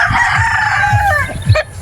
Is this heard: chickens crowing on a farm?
yes